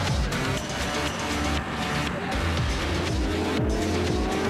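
Superbike motorcycles race on a wet Zolder circuit in Belgium on treaded tyres, their engines roaring loudly and continuously with rising and falling revs as bikes pass close by.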